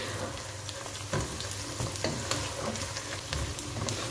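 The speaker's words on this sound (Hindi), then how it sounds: "साबुत गरम मसाला डाल के इसे 1 से 2 सेकंड तक फ्राई करूँगी, जिससे खुशबू आने लगेगी।" Whole garam masala spices with cinnamon pieces and black cardamom pods fry in a hot pan, a steady loud sizzle with scraping stirs across four seconds and no voices.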